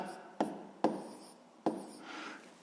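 Hand writing out a sixth-grade math solution, quiet scratchy strokes on paper broken by three sharp taps of the pen, with no one talking.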